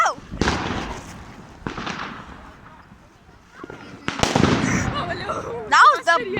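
New Year fireworks and firecrackers bursting outdoors, several loud sharp bangs spaced a second or two apart with crackling tails, while people talk and exclaim nearby.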